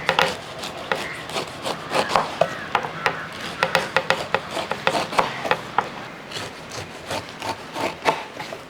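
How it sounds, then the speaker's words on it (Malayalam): A knife shaves the spiky skin off a ripe pineapple, giving a run of close, repeated scraping and rubbing cuts in an irregular rhythm with no talking. "ഈ മുള്ളിൻ്റെ ഭാഗമൊക്കെ നമുക്ക് ചെത്തി കളയാം."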